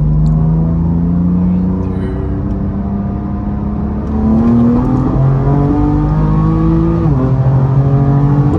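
A BMW F82 M4 engine revs hard and loud up close, its pitch climbing through rising sweeps with a shift-like dip near the end, the roar dominating throughout.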